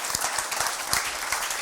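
An audience at a tech meetup claps continuously, a thick wash of many hands with occasional sharper individual claps near the front, no talking over it.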